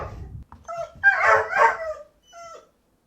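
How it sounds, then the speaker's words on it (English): A computer-emulated dog gives a few close barks, then a brief whimper, with short pauses between the sounds and no talk over them. "I emulated the sound of your dead dog, James."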